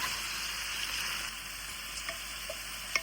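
Tomatoes sizzle steadily in a hot pan with spices, with a soft continuous frying hiss and a few faint clicks as they are stirred.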